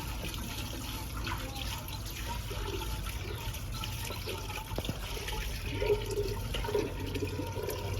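Hot water pours steadily into a cooking pot in a village kitchen, a continuous running, splashing flow at close range with faint background noise and no voices.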